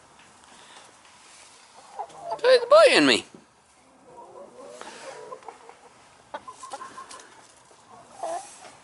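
Backyard chickens cluck and squawk close by, with one loud agitated burst early on and softer scattered clucks afterward, while someone talks over them.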